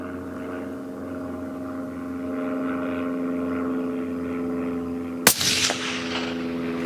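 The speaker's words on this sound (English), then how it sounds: "So I'm gonna fire again." A single sharp 6.5 Creedmoor shot from a Tikka T3x Lite rifle cracks out loudly outdoors over a steady low hum, followed by a brief ringing echo.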